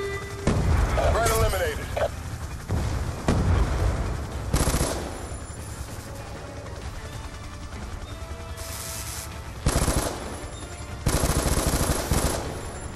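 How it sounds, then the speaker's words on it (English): Light machine gun fire in the Black Ops II campaign: sustained automatic bursts with heavy booming impacts, loud and dense, broken by short pauses and mixed with in-game combat noise while someone talks. "Good thing I picked up a light machine gun. I mean, that antenna is under fire."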